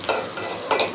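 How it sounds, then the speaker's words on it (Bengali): Garlic fries in a pan for a dried-fish mash, a brief soft sizzle with a couple of stirring scrapes, close and alone. "রসুন ভাজি করতেছি"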